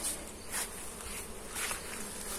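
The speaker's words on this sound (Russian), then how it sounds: "Послушайте эту песню пчел. Их даже слышно в доме." Bees buzz outside, heard from inside a house, a steady faint drone with a few louder passes as individual insects fly close.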